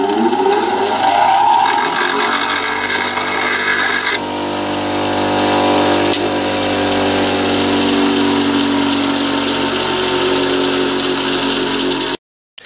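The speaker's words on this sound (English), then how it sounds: "dress the surface or the front of the wheel and make sure it's nice and flat. And I use this diamond tool here." A diamond dressing tool flattens the face of a spinning grinding wheel, producing a loud, steady machine whine with shifting harsh grinding tones that runs continuously for about twelve seconds before cutting off abruptly.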